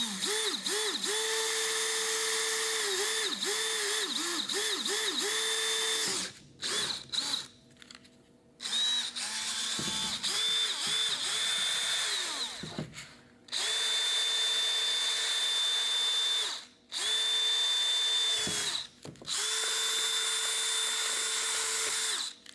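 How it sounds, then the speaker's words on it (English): A power drill bores through a plastic jug being made into a catfish jug line, its whine rising and dipping in several long bursts, each run pitching down as the bit bites, with brief pauses between. "I'm gonna go here and just drill right in"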